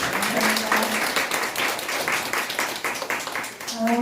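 A school parent-education audience applauds in a moderate burst of clapping, with a faint tone and voices mixed in toward the end.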